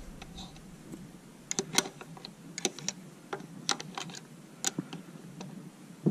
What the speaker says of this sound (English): all we want to do is loosen this lock nut, loosen the adjusting bolt